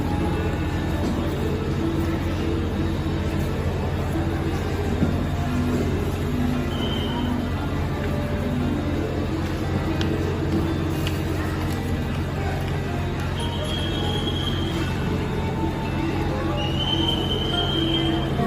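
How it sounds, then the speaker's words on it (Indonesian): Steady indoor hubbub in the long-distance train waiting room of Yogyakarta station, with distant murmuring voices, occasional faint announcements or tones, and a constant low rumble of nearby rail traffic. "Suasana ruang tunggu kereta api luar kota stasiun Yogyakarta."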